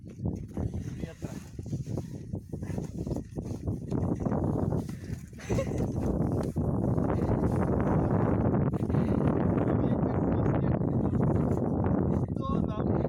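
Strong wind blows outdoors on a city street, roaring and buffeting the microphone in gusts that build into a constant rush, with people talking underneath.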